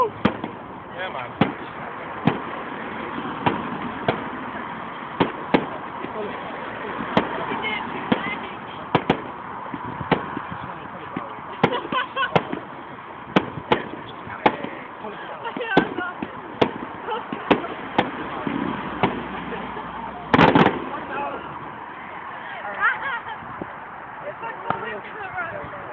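A local fireworks show crackles and pops with repeated sharp bangs scattered across a steady wash of crowd noise and chatter, one louder burst standing out near the end.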